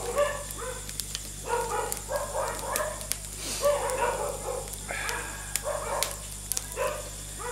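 Several dogs barking repeatedly at a moderate distance, bursts of yapping and bow-wows overlapping in irregular clusters over a low steady hum.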